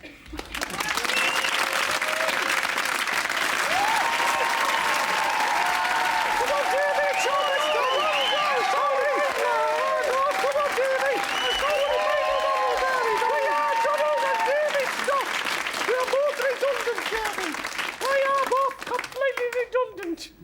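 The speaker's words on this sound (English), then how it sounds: "so I'll give them a round of applause" Sustained applause from an audience, steady clapping filling the whole stretch, with a voice speaking over it.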